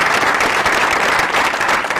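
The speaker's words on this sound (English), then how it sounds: "Let's give them a round of applause as well." A dense, steady round of applause from a plenary session audience, with no breaks and no voices over it.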